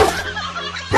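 A dog gives a single short, close, loud bark-whine that trails into a brief whimper, with another sharp yelp starting at the very end.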